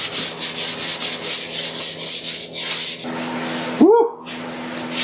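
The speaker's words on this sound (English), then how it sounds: "before I clear the green panels, sand them down a bit" Rhythmic hand sanding strokes scrub across green motorcycle fairing panels ahead of clear coating, steady and close, before the rubbing stops and a short whistle-like vocal sound and faint noise follow.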